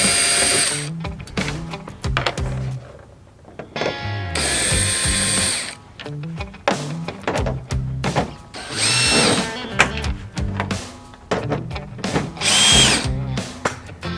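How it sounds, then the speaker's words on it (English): A power drill backs screws out of an F-250 tailgate during a hatch install, with repeated bursts of whirring and ratcheting, stops and restarts over about fourteen seconds, loud and close with no talking. "Alright, so now we're going to take out the screws."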